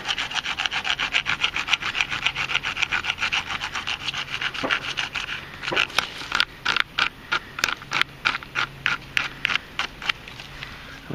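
A file rasps back and forth across the tip of a PVC longbow, a steady run of scraping strokes that grows into crisp, separated rasps toward the end, close and fairly loud with no talking.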